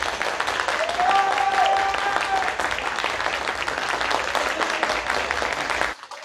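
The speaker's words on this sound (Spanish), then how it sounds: "Solamente aplausos, chicos, y aplausos." Audience applause at a variety show fills the space, a dense, continuous wash of clapping heard close for about six seconds with faint voices underneath before stopping abruptly.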